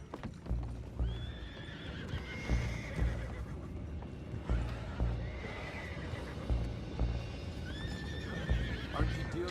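Horses in Red Dead Redemption 2 whinny repeatedly over a steady clatter of hooves, amid busy background noise and occasional indistinct voices.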